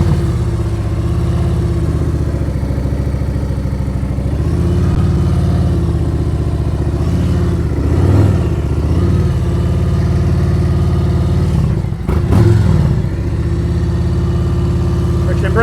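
Motorcycle in slow-speed riding practice, a steady low engine hum with soft swells as it stops, turns and stops again, while someone talks over it.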